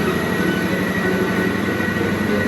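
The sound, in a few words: train engine pulling screeching wagons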